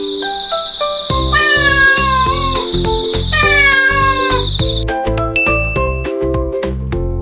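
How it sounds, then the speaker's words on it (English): Several cat meows stand out clearly, repeated and drawn out in a steady rhythm, with a bright ringing ding and tinkly chimes and a light backing melody playing throughout. "Cat."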